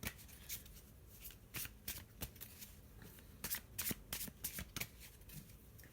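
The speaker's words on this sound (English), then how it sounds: "So just having a little shuffle with the black and white Faulkner deck." Quiet tarot card shuffling, a series of crisp riffling bursts and soft slaps at an uneven rhythm, close up with no talking.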